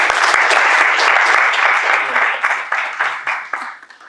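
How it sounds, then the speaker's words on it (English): Audience applause for speakers at an Islam and AI ethics event, steady dense clapping filling the hall, then gradually thinning and fading toward the end. "give them a round of applause"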